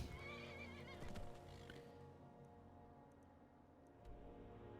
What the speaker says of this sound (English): Would be nice if my horse actually came. Okay, shots. That's another one, actually. Horse call.